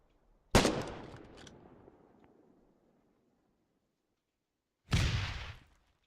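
A grenade launcher in the video game Foxhole fires twice: a sharp, loud blast that trails off over about two seconds, then silence, then a second heavy shot near the end.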